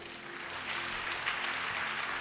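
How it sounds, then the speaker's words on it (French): A church congregation applauds during a worship service, with a soft, continuous wash of many hands clapping at a distance, fairly faint and even throughout. "On peut acclamer la parole de Dieu."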